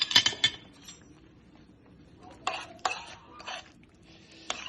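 Shrimp stirred in a pan with a utensil, giving sparse metallic scrapes and clinks in short bursts against a quiet background.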